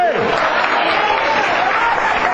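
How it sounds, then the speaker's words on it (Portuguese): A church congregation applauds during a sermon, a dense, even roar of clapping filling the space, with a brief voice at the very start. "Pode aplaudir Jesus"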